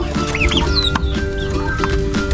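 Ten young turkey chicks mixed with two chicken chicks peep and chirp in a backyard pen, a busy close cluster of high rising calls over a steady background hum.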